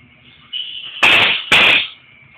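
An air compressor used as a Halloween scare prop lets out two loud, sharp hissing blasts of air about half a second apart, close by, after a softer lead-in hiss.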